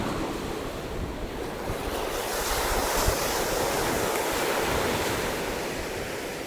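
Ocean waves break on the shore in a continuous loud roar of surf, swelling slightly midway, with wind buffeting the microphone throughout and no voices.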